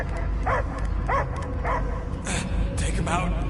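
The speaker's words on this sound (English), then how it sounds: "I hear only barking" Dog barking in the video game Marvel's Guardians of the Galaxy, a series of short yips and barks at a steady pace under an ongoing low game rumble and music bed.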